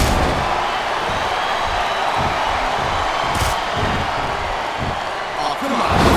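A capacity arena crowd roars in the wrestling video game WWE SmackDown vs. Raw 2007, a steady loud din of cheering with periodic thuds and slams from the match underneath it.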